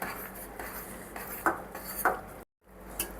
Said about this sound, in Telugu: చూడండి ఇలా దగ్గరగా వచ్చేంత వరకు అయితే మనం కలుపుకోవాలి.